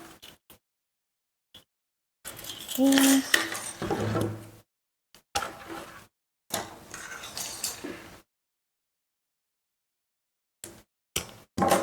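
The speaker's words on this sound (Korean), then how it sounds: "마지막으로 손잡이 두 개를 잘라줄 거예요" Two 35 cm handle pieces are cut for a circular floral decoration structure, with short metallic clinks and snips in separate bursts broken by silent pauses.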